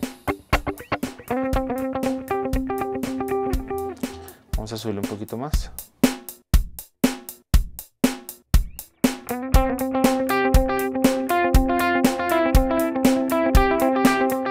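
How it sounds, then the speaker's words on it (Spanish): Electric guitar run through a worship-style delay on a Nux MG300 processor, plucked notes and chords ringing out with repeating echoes trailing behind them, while someone talks briefly over the playing. "Si ya tenemos este delay que está aquí, suena así."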